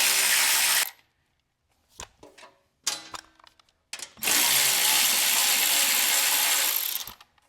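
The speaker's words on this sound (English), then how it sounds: "We're gonna go ahead and take these bolts off." A hand ratchet fitted with a 3/8 socket loosens bolts on a snow blower's transmission cover: long, loud, rapid clicking bursts at the start and end, with short ratcheting strokes and pauses between them, close up.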